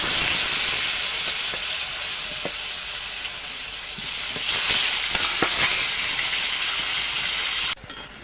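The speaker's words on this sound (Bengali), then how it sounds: "বেগুনটা ভেজে নেব" Eggplant slices fry in a pan of hot oil with a steady, close sizzle and hiss, broken by scattered light pops and scrapes, ending abruptly near the end.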